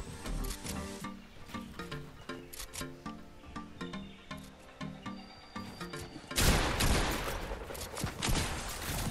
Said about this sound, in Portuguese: Estão trocando tiro ali.